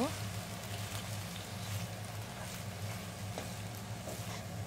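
Onion paste in ghee sautés for beef haleem with a soft, steady, faint sizzle throughout, even and unbroken like light rain.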